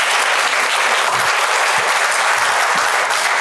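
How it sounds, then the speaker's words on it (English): Loud, dense applause from a seminar audience greeting a guest on a real estate investing panel, a continuous wash of many hands clapping evenly throughout with no speech. "Let's give him a round of applause."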